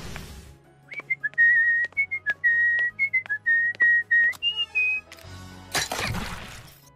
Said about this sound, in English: I love how Ladybug whistles her own theme in this episode.